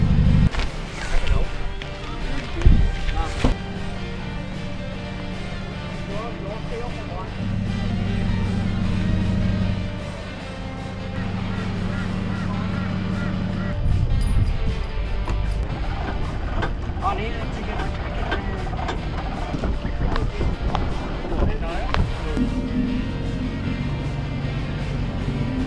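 Sea-Doo jet skis pulling away from the marina at Hervey Bay on a calm, glassy day, a steady engine drone that swells and shifts in pitch as they get under way, heard close beneath some talk.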